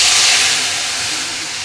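Poa fish dropped into hot oil in a pan for a Bengali curry with long beans, giving a loud, close, broad sizzling hiss that eases off slightly as it continues.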